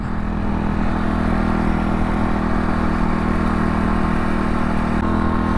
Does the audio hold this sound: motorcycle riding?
yes